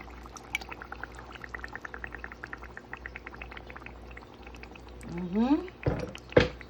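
Water being poured into a pot while cooking Filipino-style spaghetti in a home kitchen, a short splashing pour and gurgle near the end after quieter kitchen sounds with speech in the background.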